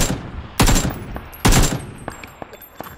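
Two loud, close bursts of automatic gunfire in the battle royale game PUBG, each a short rapid volley, followed by fainter scattered single shots and distant pops.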